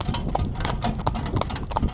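A horse's hooves clip-clop at a steady trotting rhythm on a hard surface while it pulls a lightweight aluminium pairs cart weighing about 400, with a continuous rolling rumble of the wheels beneath.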